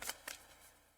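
A tarot card deck being shuffled, two quick soft riffling bursts close up, faint and alone.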